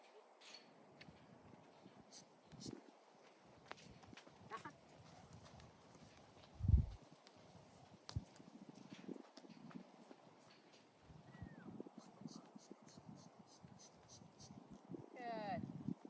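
Quiet hoofbeats from a horse during liberty training, sparse soft clops scattered over a calm outdoor background with insects, and a voice speaking faintly now and then.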